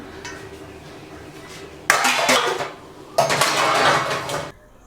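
Dishes and utensils being unloaded from a dishwasher give two loud bursts of clattering and clinking, each about a second long, over quiet room background.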